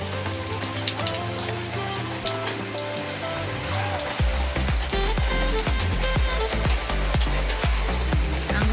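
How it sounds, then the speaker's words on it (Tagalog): Dense typhoon rain in the Philippines pours and patters on surfaces, a steady hiss with scattered louder drips throughout. "malakas pa rin ang ulan"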